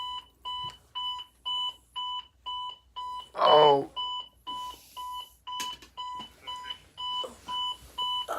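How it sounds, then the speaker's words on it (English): An alarm clock set for six in the morning beeps in a steady repeating pattern of short electronic double tones, loud and close, briefly interrupted by a sound and a spoken exclamation before it keeps going. "My alarm clock just went off."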